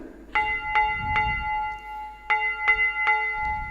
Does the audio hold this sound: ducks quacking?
no